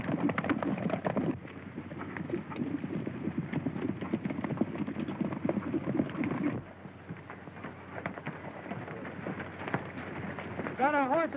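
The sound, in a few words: horses' hooves clip-clopping in a western film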